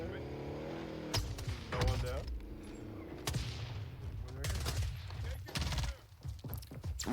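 Gunfire in a first-person shooter video game comes as repeated sharp shots and short bursts spread across the clip, played at moderate level beneath a continuous voice talking.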